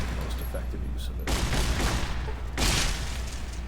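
Gunfire in the video game Fallout New Vegas inside a cave, two bursts of dense rapid shots that rumble over a constant low game ambience.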